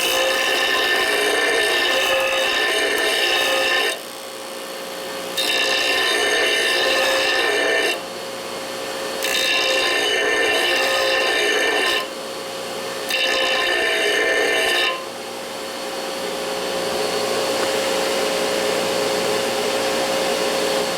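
A grinder works on a part for a 1941 Harley WLD 45 flathead stroker motor build, giving loud, close, whining bursts of grinding in repeated runs of about three to four seconds, separated by short drops to a quieter motor hum.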